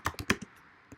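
A few quick keystrokes on a computer keyboard, four close, crisp clicks in fast succession and one more after a short pause, faint and alone.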